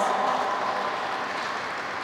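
A warm round of applause for a couple renewing their vows fills the room as dense, steady clapping from a crowd, continuous and fairly loud throughout.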